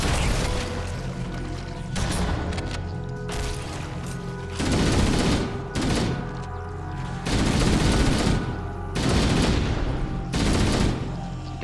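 Bursts of heavy gunfire in Halo: Combat Evolved come in several loud volleys separated by brief lulls, with booming impacts and mechanical clatter mixed in.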